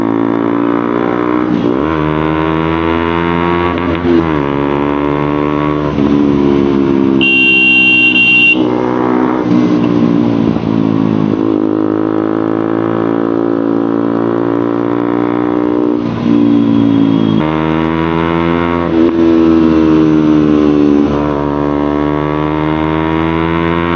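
A 2021 KTM Duke 125 BS6 motorcycle fitted with a loud Akrapovic exhaust roars close by inside a tunnel, its engine note rising and falling through repeated revs and gear changes with a steady booming drone and no talk.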